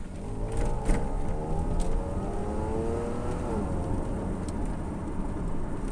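A petrol car engine revs steadily through its exhaust with a deep, throaty rumble, loud and close, holding a constant drone throughout with slight surges.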